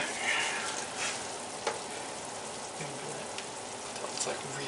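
A soft, steady sizzle of ground meat frying in a pan for homemade Hamburger Helper, with faint crackles and pops scattered through it and no talking.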